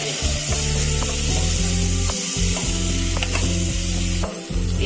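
Noodles being stirred in a pan with turmeric and chili powder added, a steady close sizzle running under repeated scraping and tossing strokes, with no talking.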